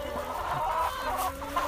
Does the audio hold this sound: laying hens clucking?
yes